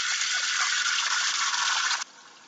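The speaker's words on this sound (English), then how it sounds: "So, a little saucepan, veggie steamer. Put some water in here." Water runs from a tap into a small saucepan fitted with a vegetable steamer, a steady close hissing stream that cuts off abruptly near the end.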